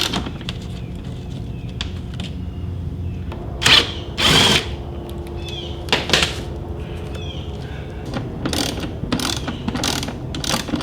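A power driver spins out T15 Torx screws from the lid of a 2022 Harley touring saddlebag in short, loud whirring bursts with ratcheting clicks, separated by quieter handling noises and repeated several times close by.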